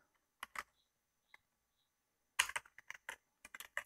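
Someone types on a computer keyboard in short, close bursts of sharp key clicks, separated by quiet pauses.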